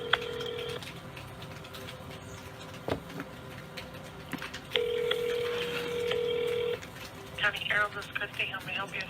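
A person speaks near a telephone while short tones sound from it, and a longer steady tone holds for a couple of seconds, as if a number is being dialed.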